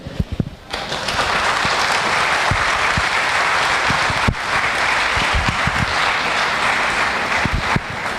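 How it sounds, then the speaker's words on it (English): An event audience breaks into loud, sustained applause, dense clapping from a large crowd holding steady for several seconds with no talk over it. "Let's give him another round of applause."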